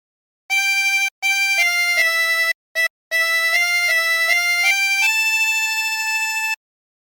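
The Squid Game theme played on a 20-hole tremolo harmonica: bright, reedy, wavering notes in short phrases with brief gaps, ending on a long held tone, loud and solo.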